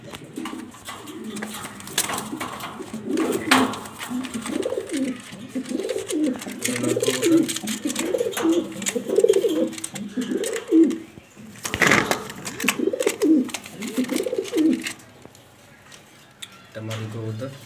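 Pigeons in a loft coo in repeated, rhythmic low throaty phrases, close and clear, with a few brief knocks and rustles in between and short pauses.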